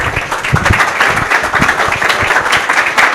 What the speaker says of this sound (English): Keep clapping, keep clapping, keep clapping, keep clapping